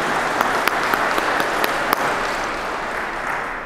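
A church congregation applauds the organist after a service, a steady wash of many hands clapping close by that holds evenly for a few seconds, with a few sharper individual claps poking out early on.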